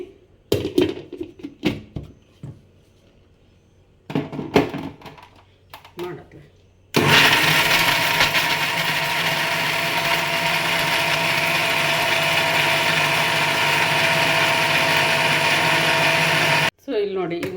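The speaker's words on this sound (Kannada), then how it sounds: "ಸ್ವಲ್ಪನೇ ಹಾಕಿಬಿಟ್ಟು ಗ್ರೈಂಡ್ ಮಾಡ್ಕೊಳ್ಳೋಣ" An electric mixer grinder whirs loudly and steadily for about ten seconds, grinding warmed grated coconut fed in small batches for chutney powder. Before it starts there are scattered clicks, handling knocks and a voice; it cuts off abruptly near the end.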